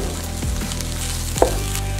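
Corn and chopped epazote frying in butter for esquites con tuétano sizzle steadily up close, with soft scraping of a spoon stirring through and one brief knock against the pan, and no one talking.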